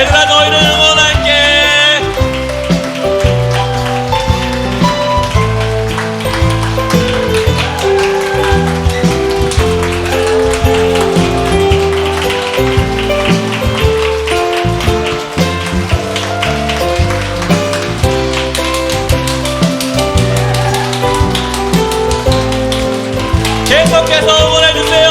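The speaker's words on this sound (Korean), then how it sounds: "여러분 계속해서 박수 쳐주세요." Sustained clapping from a church congregation at a Sunday service, a continuous rain-like patter that keeps going for the whole stretch beneath loud, full music.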